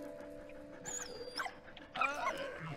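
A dog in the World War I video game Valiant Hearts whimpers and yelps in a couple of short high bursts, heard over a low steady game background.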